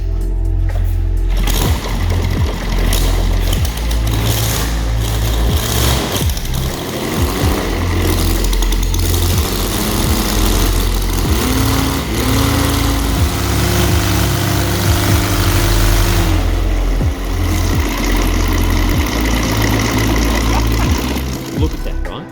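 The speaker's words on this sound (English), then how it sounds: "design and manufacture of light radial aircraft engines for enthusiasts and home builders" A Rotec R2800 light radial aircraft engine runs in a loud, continuous, rumbling drone with shifting tones, while people talk over it.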